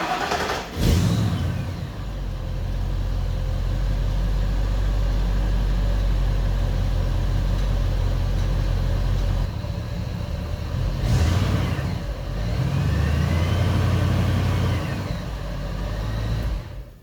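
A supercharged 1956 Ford F-100 truck engine cranks and catches, then settles into a steady low idle, with a couple of hissing surges and revs along the way.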